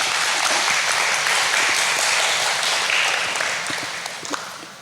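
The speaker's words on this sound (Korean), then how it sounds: "힘찬 고마운 박수를 좀 부탁드리겠습니다" Audience applause at the Jeju International Student Art Contest, a thick, sustained wash of clapping from many hands that runs throughout and eases slightly toward the end.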